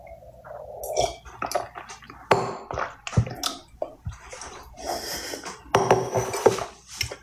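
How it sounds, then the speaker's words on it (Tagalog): Dishes being washed by hand at close range, with irregular clinks and clatters of plates and utensils, splashy squishing water sounds, and short sharp knocks spread across the clip. "Maghuhugas muna ako ng plato."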